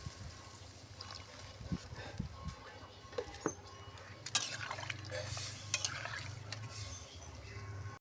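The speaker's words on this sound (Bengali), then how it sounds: "এমনভাবে জল দিতে হবে যেন ঝোল ঝোল না হয়" Water poured into a curry cooking in a pan, a soft trickling and sizzling splash that swells midway and continues faintly, with someone talking over it.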